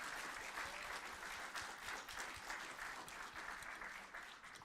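A conference audience applauds at a tech event, a dense and steady wash of many hands clapping together that carries on without a break from start to finish.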